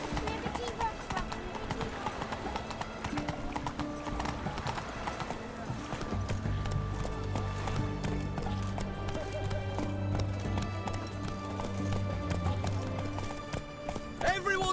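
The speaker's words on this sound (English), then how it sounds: "Whoa there, Roach" Horse hooves clip-clopping steadily in The Witcher 3: Hearts of Stone, a continuous trotting rhythm under game music and dialogue, with a brief whinny near the end.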